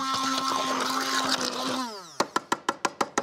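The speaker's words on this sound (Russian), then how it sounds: "Так, немножко еще ее пробью блендером." A blender purees cauliflower, whirring steadily, then its motor winds down and gives way to a series of short, evenly spaced pulsing bursts.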